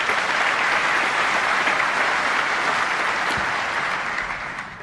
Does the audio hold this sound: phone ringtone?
no